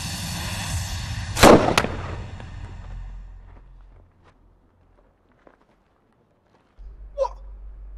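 A single sharp sniper rifle shot cracks out loud over a steady background, with a quick echo after it, then things go quiet apart from a brief faint pop later.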